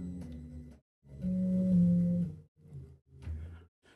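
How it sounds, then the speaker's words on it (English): Brushless DC motors driven with too much torque slow down, giving several short, quiet, humming tonal bursts separated by brief gaps of silence. "There's too much torque. That's the noise you're hearing when I slow down."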